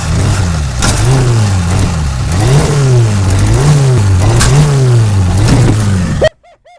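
A 1963 Chevrolet Suburban engine running on ether revs loud and close in repeated rising-and-falling surges, with sharp pops breaking through, then cuts off abruptly near the end.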